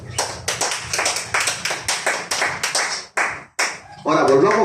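A church congregation claps in praise to God, sharp rhythmic bursts of clapping in regular pulses, then a voice rises near the end.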